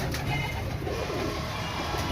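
Pigeons of several kinds cooing on a rooftop loft, a steady low murmur of coos carrying on for the whole stretch amid faint outdoor background noise.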